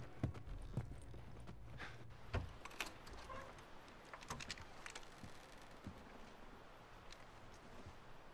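Horse hooves clip-clop softly on the ground in The Last of Us Remastered, a series of irregular, distant taps mixed with footsteps and faint ambient noise, with no voices.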